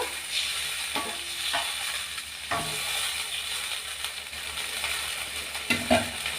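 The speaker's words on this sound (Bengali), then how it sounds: "এবারে আমি এর মধ্যে জল দিয়ে দিচ্ছি খুব সামান্য পরিমাণ জল দেব" Small splash of water hitting a frying fish curry masala in a pan, a steady hissing sizzle with a few spoon knocks and a brief bubbling burst near the end, no voices.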